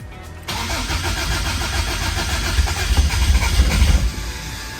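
A Toyota AE86 with a 4A-GE 20V engine cranks and catches, then settles into a loud, steady idle with a rising rev before the sound drops off near the end.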